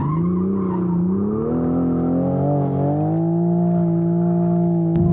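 A car built for drifting runs on a racetrack, its engine droning loud and close with a smooth, gradual rise in pitch as it accelerates, and no talk over it.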